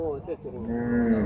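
A Kangeyam bull at a cattle farm gives one deep, drawn-out low that starts with a rough onset and holds a steady, resonant tone. It sounds close and loud.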